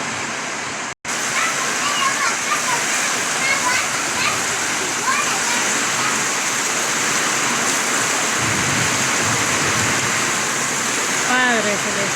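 Heavy rainstorm pouring down steadily in a continuous loud roar like a waterfall, with water flooding into a home; faint voices and a child's speech come through briefly under the downpour.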